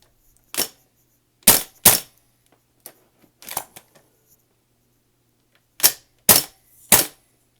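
A DDMK18 toy blaster fires short full-auto bursts, sharp loud snapping pops in quick clusters of two and three separated by brief pauses, with a few faint clicks between.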